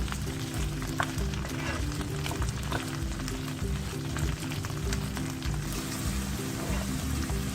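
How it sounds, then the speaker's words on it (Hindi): Cut okra pieces, a kilo of bhindi, frying in oil in a home kitchen, a steady dense sizzle with scattered small pops and crackles, close and continuous with no talk. "भिंडी को अच्छी तरह फ्राई करें जब तक कि इसकी लेस खत्म ना हो जाए"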